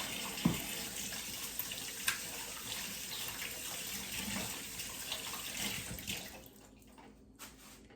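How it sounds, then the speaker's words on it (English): Faucet water runs steadily into a sink while hands are washed, a faint continuous stream that thins out near the end, no talk. "I just wash my hands"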